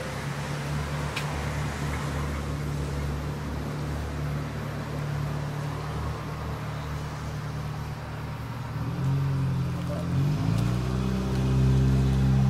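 A car on a road at night, its engine hum steady and then swelling louder as it approaches and passes close by, with no talk.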